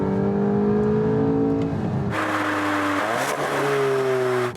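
VW Golf 8 GTI accelerating on the road, engine note rising steadily through a gear, then a brief break as it shifts and climbs again, loud and close with no talk.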